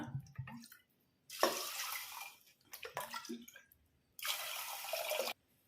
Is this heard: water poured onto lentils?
yes